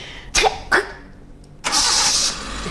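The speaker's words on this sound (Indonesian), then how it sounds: "Kok gitu sih suara mobil?" A car engine cranks in two short bursts, pauses, then catches and runs briefly at a loud, steady idle close by.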